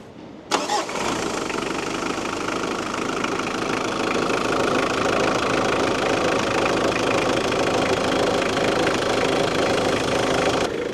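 A pickup truck with a camper unit cranks once and fires up after a breakdown repair. It settles into a loud, steady, slightly rattly idle close by, and no one speaks.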